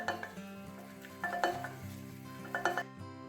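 Flour stirred into melted butter over low heat for a roux, the base of a spicy cheese sauce. A steady soft sizzle runs under the scraping and clinking of the utensil against the pan, with louder bursts of stirring.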